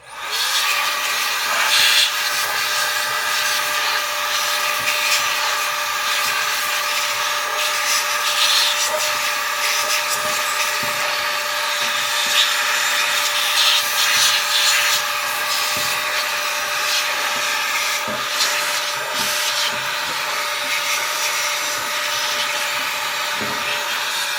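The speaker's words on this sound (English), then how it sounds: "I always like to do one final blow. I'm going to hold the front fans as well too and blow those out." Compressed air blasts dust out of a computer case and its front fans, a loud continuous hissing rush with slight flutter, steady and close for the whole stretch.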